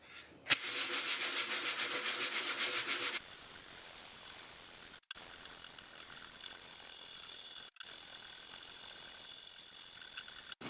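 Sanding a drum shell with 100 grit sandpaper during a drum renovation, heard as a loud, steady rasping burst for about three seconds, then a quieter continuous scratchy rub that carries on with two brief gaps.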